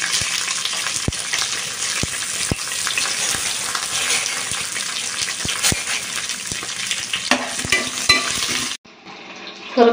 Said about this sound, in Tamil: ரெண்டு பச்சை மிளகாய், வெங்காயம் போட்டு கொஞ்சம் வதக்கிக்கோங்க